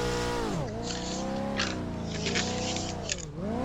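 A C5 Z06 Corvette's V8 drones loudly and continuously at close range, its pitch falling and rising with throttle as the car is driven hard, with faint tire squeal mixed in.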